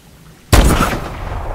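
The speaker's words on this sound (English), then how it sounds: "Open fire when we're in position, Alona." A single loud gunshot from the video game Call of Duty: Advanced Warfare, a sharp close blast that breaks a quiet lead-in and leaves a long rumbling echo.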